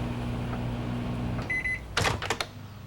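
A microwave oven hums steadily while heating a McCain microwave pizza, then stops with a sequence of short beeps, followed by the clunk and rattle of the door being opened.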